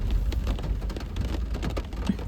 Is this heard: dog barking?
no